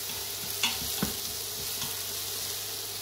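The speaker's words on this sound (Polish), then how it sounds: "Jest idealnie, żeby sobie tak właśnie przysmażyć te żeberka." Pork ribs fry in a small amount of oil in a pan, giving a soft, continuous sizzle with a couple of faint stirring clicks, quiet and close, no talk.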